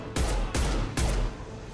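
Three loud bursts of gunfire from a Mass Effect 2 firefight aimed at a loose fuel tank, each blast booming and decaying over about a third of a second, evenly spaced and close.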